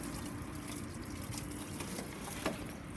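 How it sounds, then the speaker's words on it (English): Water pours over the outside of a rear passenger door of a 2002 Volkswagen Golf during a leak test, a steady close splashing wash with a small splash near the end. "Put a bit of water on the outside."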